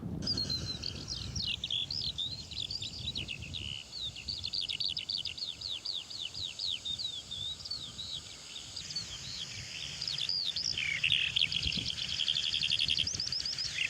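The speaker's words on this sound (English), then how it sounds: "that's a curlew. Can you hear that?" Repeated rising curlew calls sound across open country, fairly distant, in bursts over a soft background hiss with a low rumble at the start.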